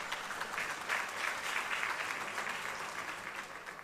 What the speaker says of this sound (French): Vous pouvez l'applaudir pour moi,